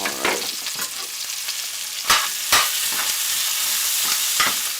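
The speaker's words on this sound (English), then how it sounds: "we're just going to let this saute up" Onions sauteing in a hot pan, a loud, steady close sizzle with a couple of sharper stirring scrapes, no talking over it.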